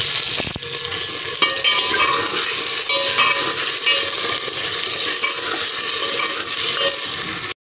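Potatoes frying in oil in a pan for pulao are stirred steadily, a continuous close sizzle with scraping and clinking of the spoon against the pan, no talking.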